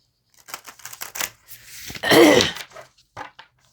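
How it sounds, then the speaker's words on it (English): A quick riffle shuffle of cards: rapid crisp flutters building to a dense burst, then a few light taps, close and fairly loud. "I will shuffle also on camera just so that you can see that they are shuffled."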